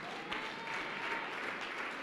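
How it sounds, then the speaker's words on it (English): A church congregation claps for a sister during a lively service, a dense, steady wash of many hands throughout, fairly distant and soft. "Clap hands for our sister."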